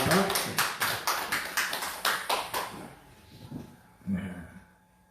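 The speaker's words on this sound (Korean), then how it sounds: "우리 박수로 한번 환영합니다" A congregation at a Sunday church service claps in welcome for two people returning home, a brisk run of sharp claps that fades after a few seconds before a voice speaks briefly.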